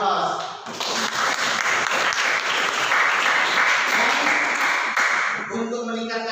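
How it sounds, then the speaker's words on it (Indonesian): An audience breaks into sustained applause, a dense, loud wash of clapping from many hands lasting several seconds before thinning out, with a few voices near the end. "kita beri aplaus"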